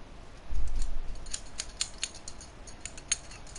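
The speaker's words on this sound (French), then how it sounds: "Je vous ai entendu les bruits de ciseaux." Scissors snipping while cutting hair in a salon, a few quick faint metallic clicks spaced irregularly, close by and quiet.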